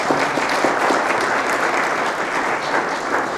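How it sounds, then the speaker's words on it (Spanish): An audience at a public health forum in Mexico applauds steadily and loudly for a few seconds in a dense, even clatter of many hands. "Un fuerte aplauso, por favor"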